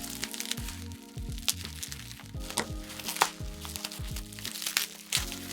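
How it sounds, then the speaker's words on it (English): Bubble wrap being pulled off a boxed Sony RX100 Mark IV camera, giving a rapid, irregular run of close, sharp crackles and crinkles over a faint steady tonal background. "Okay, and some more bubble wrap."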